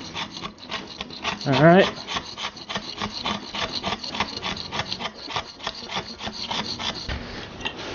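A blade scrapes out old floor tile in a tile replacement job, producing steady rasping, rubbing strokes in a repeated rhythm close by, with a brief spoken word early on.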